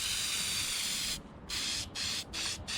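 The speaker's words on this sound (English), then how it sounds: "So this sprays on clear, and then turns black, turns rust into black." A spray can of rust converter hisses onto the chrome bumpers of a 1964 Ford Galaxie, one long continuous blast then several short bursts, loud and close with no talking.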